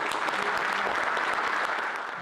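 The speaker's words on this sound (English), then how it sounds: "let's give a great round of applause" An audience at a Princeton football event applauds steadily, a dense wash of clapping hands that holds for a couple of seconds and then begins to fade slightly.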